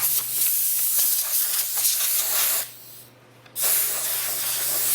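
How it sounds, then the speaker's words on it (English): A small air hose blows a steady, close hiss to dry alcohol off a pedalboard, cutting out briefly for about a second before the loud blast resumes. "Use your little air hose to maybe make some of that alcohol dissipate."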